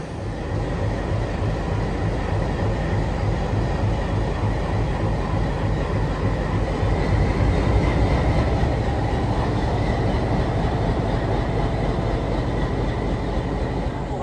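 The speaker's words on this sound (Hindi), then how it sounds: "इटारसी शेड का डीजल लोकोमोटिव शंटिंग कर रहा है यहाँ पे रेक की।" An Itarsi shed diesel locomotive shunts a rake of coaches, giving a steady, loud, low engine drone with a faint metallic hum that runs unbroken and close throughout.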